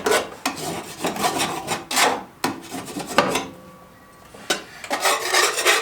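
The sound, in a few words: scraping grass debris off underside of lawn mower deck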